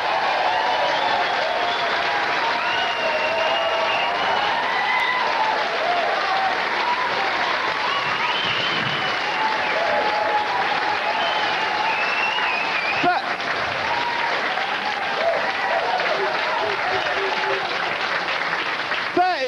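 Loud, sustained applause from a comedy club audience at Jongleurs welcoming comedian Tim Clark to the stage, a dense wash of clapping with some crowd noise running steadily throughout without letting up.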